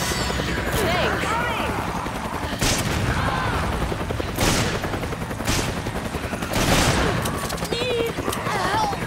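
Gunfire in the video game Resident Evil 5 crackles in repeated bursts over a busy in-game soundscape, with loud overlapping shots and booms, and voices speak now and then.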